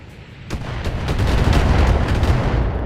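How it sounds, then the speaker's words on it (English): BattleTech game combat with missiles and turret fire striking the player's mech: a dense, rumbling barrage of booms and sharp impacts that builds in loudness and holds steady, with no voices. "Wait, where am I even getting missiled from? I don't even see missiles firing."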